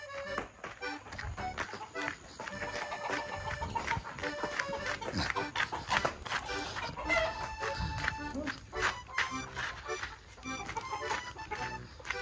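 Chickens clucking and a rooster crowing in a rural Thai yard, moderately close with busy background noise and people talking at times.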